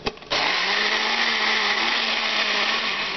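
A blender blending pancake batter of oats, whey protein and cinnamon whirs loudly and steadily after a brief start, a dense high-pitched motor roar with no voices.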